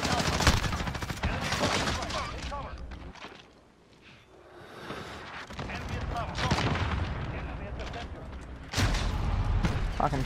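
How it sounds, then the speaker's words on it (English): Shots crack and boom through a Call of Duty Modern Warfare match on the Shipment map, dense overlapping gunfire and explosions that fade briefly in a short lull and then surge back, with players talking over it. "You shot me through a container."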